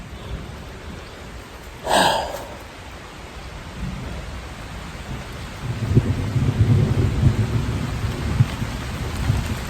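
A thunderstorm outside a house, with a single close rumble of thunder followed by steady rain pattering on surfaces. The rain grows heavier and louder toward the end, and no voices are present.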